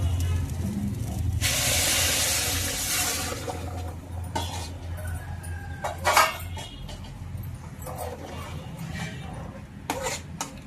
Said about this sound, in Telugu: బాయిల్ అయిన వాటర్ కూడా వేసేస్తున్నామండి.